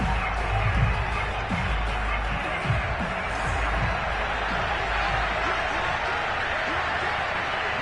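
A stadium crowd in an American football video game roars and shouts steadily while a replay is shown, a dense, continuous wash of voices at moderate loudness.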